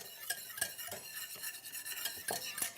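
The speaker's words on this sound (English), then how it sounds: "And I'll give this a quick little whisk" A quick whisk beats cornstarch into cold cream in a bowl, giving a run of rapid, light, rhythmic metal taps and swishes, close and fairly soft, with no voices.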